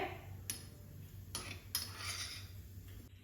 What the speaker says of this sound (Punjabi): ਹੁਣ ਇਹਨੂੰ ਆਪਾਂ ਇੱਕ ਅਲੱਗ ਪਲੇਟ ਦੇ ਵਿੱਚ ਨਿਕਾਲ ਲਾਂਗੇ